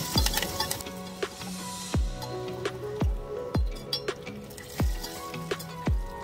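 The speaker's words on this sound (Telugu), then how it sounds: "కొంచెం కరివేపాకు కూడా వేసుకుని బాగా ఫ్రై చేసుకోనండి." Curry leaves frying in a pan with oil, sizzling steadily while a spoon repeatedly taps and clinks against the metal in a loose rhythm, close and moderately loud, no voices.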